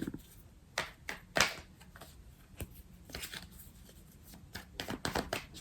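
Tarot cards shuffled and laid out on a table, with a string of crisp, separate snaps and slaps, some sharp and close, spaced unevenly across the span with soft rustling in between.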